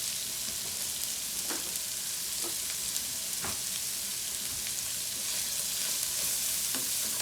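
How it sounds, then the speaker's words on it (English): Onions frying in a pan with sage and poultry seasoning give a steady, close sizzle, with a few soft scraping stirs through it. "we're just gonna cook that until the onions are done"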